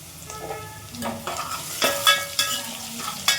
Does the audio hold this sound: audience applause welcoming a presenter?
no